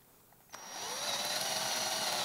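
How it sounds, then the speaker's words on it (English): A drill with a quarter-inch bit bores drainage holes through a wooden birdhouse floor, a click followed by a rising motor whine that settles into a steady, close buzz. "So just drill four holes, one kind of by each corner."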